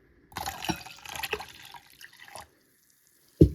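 A glass of water is poured into a bowl of mint chutney for pani puri water, making about two seconds of close splashing and gurgling, followed by quiet and a single dull knock.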